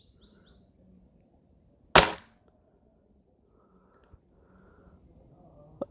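A single sharp shot from a new Hatsan Torpedo 100x .22 air rifle, one loud crack near the microphone that fades quickly, followed by quiet room noise and faint small clicks.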